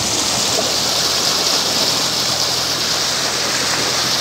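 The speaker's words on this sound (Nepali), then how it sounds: "खेतीको लागि यो चाहिने पानी व्यवस्थित कुलो हामी देख्न सक्छौँ" Steady rushing water flowing along an irrigation canal for farmland, a constant broadband wash heard close and unbroken.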